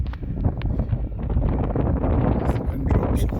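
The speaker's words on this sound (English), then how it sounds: "it's a bit windy at the moment" Wind gusting across an open beach at Morecambe on a chilly day, a steady broadband roar buffeting the microphone throughout, with faint voices underneath.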